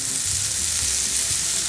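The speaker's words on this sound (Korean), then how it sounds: "이거 기름에다 튀기듯이" Soy sauce fries in hot oil in a pan, a steady, dense sizzling hiss heard close and alone with no voices.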